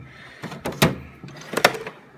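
A metal tool chest drawer holding ratchets and extensions slides open with a rumbling scrape, followed by a couple of clanks and rattles of contents shifting inside.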